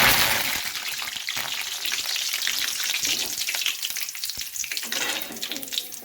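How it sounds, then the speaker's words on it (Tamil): Curry leaves frying in oil for cauliflower 65, a loud, dense, continuous crackle and hiss close by that never lets up. "கொஞ்சம் கருவேப்பிலை வந்து போட்டு பொறிச்சு"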